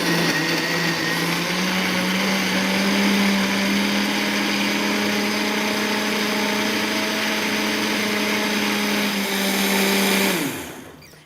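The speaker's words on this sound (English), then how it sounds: "We're going to turn it on 4 and blend." A blender making a smoothie runs steadily at high speed for about ten seconds, a loud continuous whirring motor, then winds down and stops.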